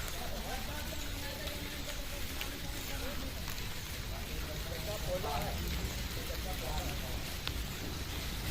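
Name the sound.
rain falling at an ashram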